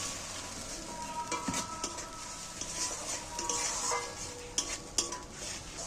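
An onion, tomato, dried and green chilli paste fries for egg chilli while a utensil stirs it, making a steady soft sizzle with scraping strokes and a few sharp clinks on the pan, close by.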